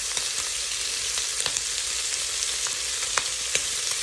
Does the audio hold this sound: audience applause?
no